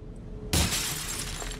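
An object smashed in Resident Evil 4 gives one sudden loud shattering crash that trails off into a noisy wash of debris, with no voices.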